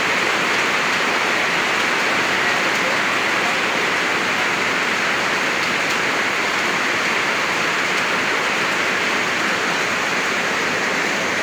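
A sudden heavy downpour drums on a house that is leaking indoors, a dense, continuous roar of rain holding steady and loud throughout.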